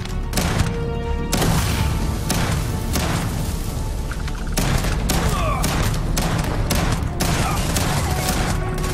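Rapid rifle gunfire in the Starfield video game, dense bursts of loud close shots with booming impacts and a few short pauses, with some speech mixed in.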